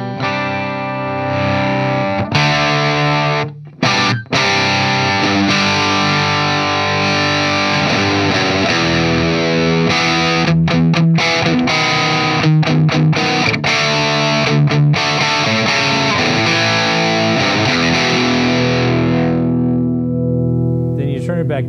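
A heavily overdriven electric guitar through a Metaltronix M-2000 100-watt all-tube amplifier rings out loud and sustained, thick distorted chords filling the space with a couple of brief cutoffs partway through.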